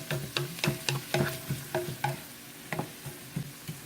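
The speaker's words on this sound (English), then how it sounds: "I basically am sauteing the onion" Chopped onion sautes in olive oil over medium heat, a steady soft sizzle broken by repeated scraping stirs of the spoon across the pan in an uneven rhythm, close and moderately quiet.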